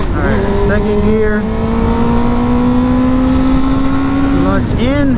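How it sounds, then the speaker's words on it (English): A motorcycle engine is revved with the throttle before the clutch is let out in second gear. The loud, close engine note rises in a long, smooth climb that levels off, then falls away and briefly rises again at the end. "you just like give the bike some gas and then you let the clutch out"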